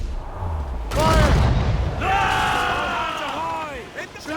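Ship cannons fire during a naval battle in Assassin's Creed Rogue: one heavy, close boom, followed by a loud wash of shouting crew voices and rushing noise that fades off.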